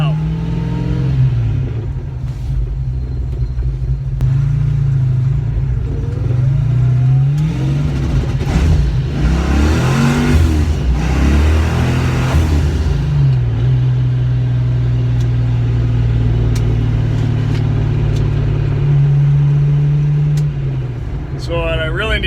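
A car engine is held at steady high revs by an MSD 6AL 3-step limiter, a loud, close, continuous droning rumble with small rises and dips in pitch, and a voice talks over part of it.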